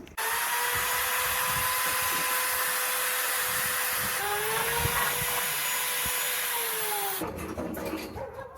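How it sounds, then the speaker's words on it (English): Wire brush spinning on a drill cleans up welds on a gas scooter build, a steady close whir with a sustained grinding hiss for about seven seconds before it winds down. "I'm going to be using this wire brush on this drill to clean up everything"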